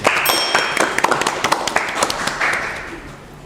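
Audience clapping at a youth e-sports talk show, scattered sharp claps with a few metallic pings and taps mixed in, fading toward the end.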